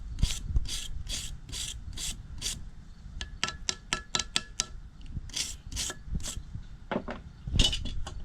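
Wire brush scrubbing the drilled-out stud hole on a Suburban exhaust manifold during a BBK header install, a close series of short raspy strokes in quick bursts with brief pauses, no talking.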